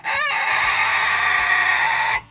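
A chicken gives one sustained, close, loud call lasting about two seconds among newly hatched chicks, then stops abruptly.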